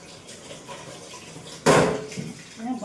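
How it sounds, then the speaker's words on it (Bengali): Dishes and pots washed in a kitchen sink under running tap water, a low steady water rush followed by a sudden loud close splash and clatter, then continuing softer water and dish sounds. "কত বাসন, সব ধুতে হবে।"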